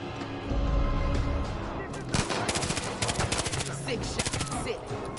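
Loud gunfire in the shooter game Far Cry 5, with a low boom followed by rapid bursts of automatic shots rattling over a busy in-game soundscape.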